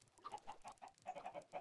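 Minecraft chickens cluck in a quick run of short, choppy calls, fairly faint and evenly spaced, with no other sound around them.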